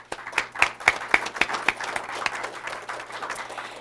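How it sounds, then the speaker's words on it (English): A round of applause at a school board recognition meeting, scattered distinct claps from a modest group, strongest early and thinning toward the end. "I want to give them a round of applause as well."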